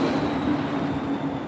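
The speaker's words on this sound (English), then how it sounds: "you can always hear the cars running by" Attraction ride cars roll past at EPCOT with a steady, loud rumbling whir, like a train passing close by, holding constant for the whole moment with no voices.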